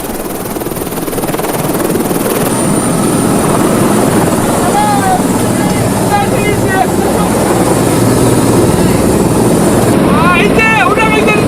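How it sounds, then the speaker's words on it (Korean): A helicopter flies above the Great Ocean Road coastline in Australia, its loud, steady rotor and engine roar filling the cabin throughout, with bird-like chirps occasionally audible over it. "저는 먼저 헬리콥터를 타고 이 바닷길을 둘러보기로 했습니다"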